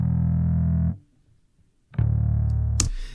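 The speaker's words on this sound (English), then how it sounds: "there's a little bit too much distortion going on there" A heavily fuzzed bass guitar holds a thick, buzzing note, cuts to silence for a second, then returns with another distorted sustained note.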